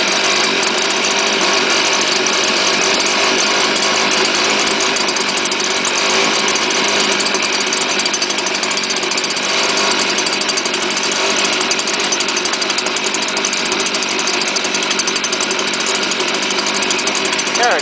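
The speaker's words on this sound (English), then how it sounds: "Engine's cold, so let it warm up." Cold STIHL chainsaw engine idling steadily up close as it warms, a continuous loud buzzing drone with a slight uneven knock and no pauses.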